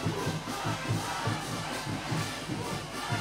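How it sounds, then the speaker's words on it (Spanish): Crowd at a caporales dance performance cheering and clapping, a dense steady roar of many voices and hands with rhythmic pulses, loud and continuous throughout. "el público lo va despidiendo con un fuerte aplauso, aplauso, aplauso"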